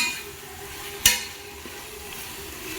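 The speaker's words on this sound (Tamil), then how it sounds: "நல்லா இந்த மாதிரி இன்னும் தக்காளி நல்லா வதங்கணும்." Two large tomatoes softening in a pan as a Tamil home dish cooks, giving a faint steady sizzle with one sharp clink of a spoon or spatula partway through, no talking.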